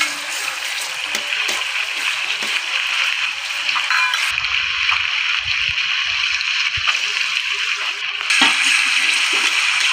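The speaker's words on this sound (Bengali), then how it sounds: "তেলের ওপর আদা রসুনটা কষতে হবে ভালো করে" Ginger-garlic paste for a chicken curry is stirred and fried in hot oil, giving a steady, fairly loud sizzle and crackle that runs throughout with faint scraping underneath.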